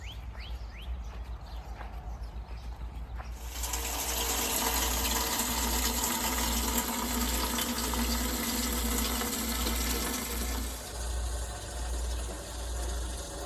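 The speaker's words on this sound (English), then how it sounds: "I am going to water it in." Water gushes steadily onto a newly transplanted blueberry bush in mid-March, a continuous close splashing pour lasting several seconds before easing off.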